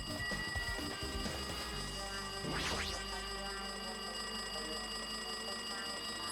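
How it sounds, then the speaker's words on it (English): Telephone ringing in the video game Danganronpa 2, a steady electronic bell-like trill running through the whole stretch, with a brief rising sweep in the middle and no talking. "It looks like that phone is ringing."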